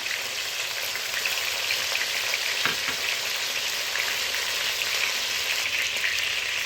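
Chicken pieces fry in a pan with a steady, dense crackling sizzle, close and moderately loud, scattered pops over a continuous hiss and no talking.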